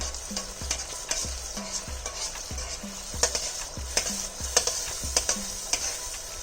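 Tomato paneer curry with ketchup being stirred in a pan, a rhythmic series of spoon scrapes and taps against the metal over a soft sizzle, close and without talk.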